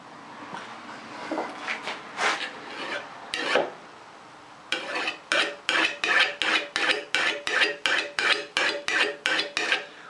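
A steel card scraper's beveled edge, clamped in a low woodworking vise, is worked with a few uneven scraping passes, then about a dozen quick, even, rasping strokes in a steady rhythm, close by.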